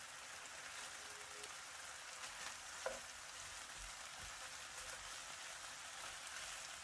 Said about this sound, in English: here he's adding the sliced onion, and he's just going to saute and break the onion apart.